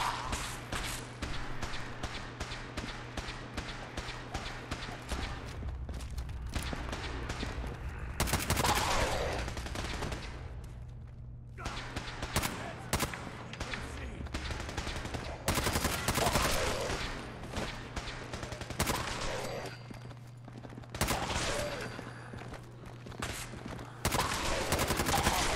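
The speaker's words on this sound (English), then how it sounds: "Shooting at me." Gunfire in a modded Fallout 4 session, with repeated sharp shots and rattling bursts spread across the stretch between brief lulls, fairly close, over a steady low hum and with occasional talk.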